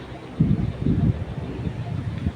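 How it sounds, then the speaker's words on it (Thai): A breeze blows outdoors during a walk, buffeting the microphone in low, rumbling gusts that swell for about a second and then ease into a softer, steady rush. "ลมโชยมาแล้วนะคะ"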